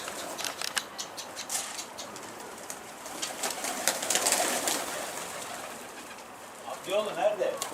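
Pigeons land at a coop with repeated flapping wings and soft patter, a close fluttering bustle rising and falling, with a brief coo-like call near the end and people talking nearby.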